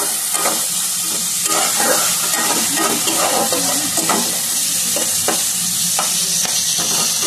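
Onion, garlic and chili fry with salt and turmeric in a pan, giving a loud, continuous close sizzle. Soft stirring scrapes and crackles run through it.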